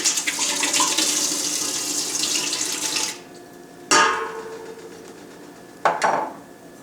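A bottle of soy sauce pours steadily into a jerky marinade for about three seconds, then two short splashing glugs follow after brief pauses.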